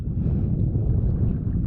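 Steady wind rushes and rumbles past a cruising sailboat under way, a low, constant buffeting roar with no voices.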